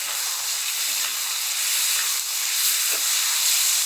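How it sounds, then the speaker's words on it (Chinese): Goose meat stir-fries in a wok with shallots, garlic and bean sauce, a steady hissing sizzle held close and fairly loud, broken by a few faint scraping touches of a spatula, with no voices. "鹅肉进锅，煸炒均匀了"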